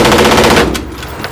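An AAP-01 airsoft pistol firing a rapid full-auto burst of sharp clacking shots, loud and close, stopping abruptly before a faint click or two.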